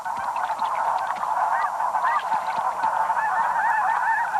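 Wild geese honk continuously in a noisy chorus, overlapping calls rising and falling close by with no pauses across the whole stretch.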